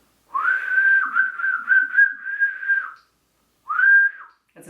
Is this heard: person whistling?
yes